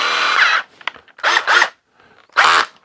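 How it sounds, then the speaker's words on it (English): Cheap Black & Decker power drill driving three screws into a wood desk, with loud buzzing bursts of motor whine, a long run at the start, then two close spurts and a final burst, separated by brief quiet gaps. "so let's see what I can do about screwing these 3 in here"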